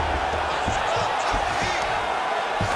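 A steady, dense crowd roar fills an arena in the UFC 5 fighting game, with scattered dull thumps from the fighters running beneath the constant noise.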